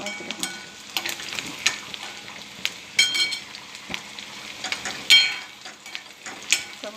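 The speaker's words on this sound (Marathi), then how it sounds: "जास्त कमी जास्त गॅस करून कांदा चांगला भाजून घ्यायचा आहे आपल्याला" Chopped onion fries and crackles in a pan for kande pohe, with a steady sizzle broken by sharper bursts as it is stirred and scraped, close and fairly loud.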